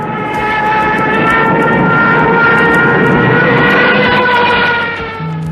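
Twelve engines drive twelve propellers on a huge early multi-engine aircraft, the largest of its time, producing a loud, sustained droning roar with steady tonal harmonics that holds throughout and eases slightly at the end.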